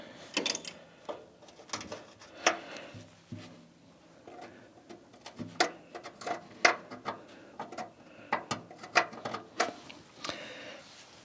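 Clicks and ratcheting taps from a stubby screwdriver working small screws, irregular mechanical ticks and scrapes at close range with no talking.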